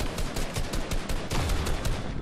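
Gunfire in the video game Fortnite comes as a dense, loud burst of rapid automatic shots, fast and even, with no pauses and no voices.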